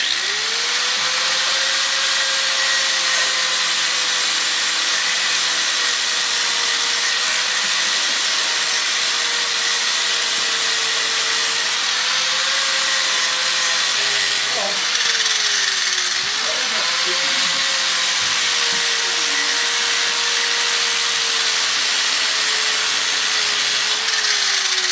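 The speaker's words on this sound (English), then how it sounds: "I'm gonna take a cut-off wheel and grind that down flush" A cut-off wheel grinds a snapped-off extractor flush, a loud, steady high-pitched metal grinding whine throughout, dipping briefly in pitch mid-way as the wheel bites, with no talking over it.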